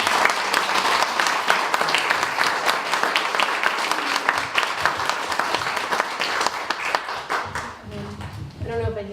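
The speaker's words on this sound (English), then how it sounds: "another round of applause for all of our winners" An audience applauds the winners at the 2018 Quills & Quotes poetry contest evening: dense, sustained clapping from a full room that thins out near the end, when a voice begins talking.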